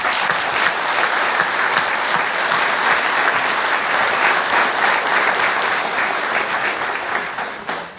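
Sustained applause from party members filling the large council hall of the Vâlcea county council, a dense, steady wash of clapping from a sizable crowd that tapers slightly at the end.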